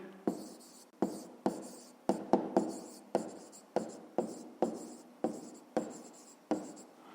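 A pen scratches across paper while a math homework answer is written out, a steady run of short rhythmic strokes about once a second, close and clear with no talk.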